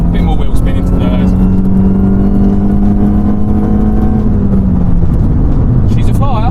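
Cheap old Mini pulling hard in second gear at 60 with the wheels spinning, its engine a loud, steady, strained drone that rises slightly and stays close throughout.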